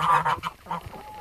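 Several geese honk close by in quick, overlapping nasal calls over about a second.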